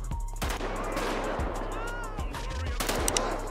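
Gunfire in GTA 5 rings out in sharp, loud shots, scattered at first and then in quick clusters, over a continuous low rumble of game ambience.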